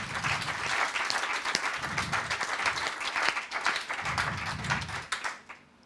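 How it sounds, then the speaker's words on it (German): A church congregation applauds together, dense sustained clapping that fills the room for several seconds before tapering off at the end. "Clap for yourself."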